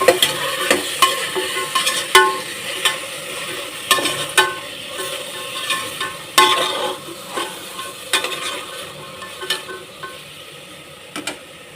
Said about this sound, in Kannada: ತರಕಾರಿಯಲ್ಲೇ ಎಣ್ಣೆಲಿ ಸ್ವಲ್ಪ ಫ್ರೈ ಆಗಬೇಕು